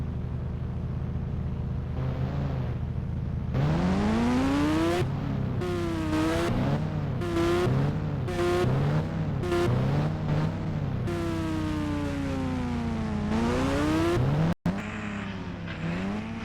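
Simulated motorbike engine from the mobile game Indian Bike 3D screams at high speed, revving up and down in repeated rising and falling sweeps, loud and steady with a brief dropout near the end, no talk.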